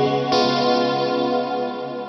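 Sustained tones wash through the Spatium reverb on a GFI System SKYLAR pedal, with a bright attack early on and a smooth tail that slowly thins out.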